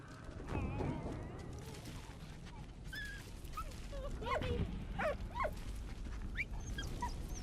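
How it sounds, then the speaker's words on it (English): A dog in the First World War game Valiant Hearts whimpers, yips and gives short barks. The sounds are faint and scattered over background noise and music. "What you got, dog?"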